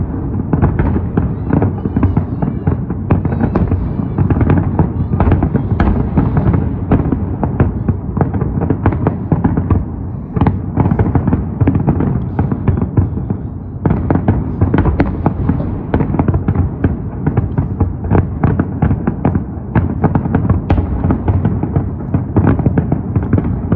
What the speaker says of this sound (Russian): Кажется, у нас лучшие места для просмотра салюта.